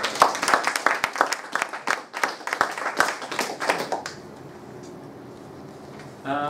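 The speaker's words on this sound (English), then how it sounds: "I think it's worthy of another round of applause" An audience at a Year 9 debate quarter final applauds both teams, with loud, distinct claps in a quick irregular patter for about four seconds that then stop abruptly, leaving quiet room tone and a brief sound at the very end.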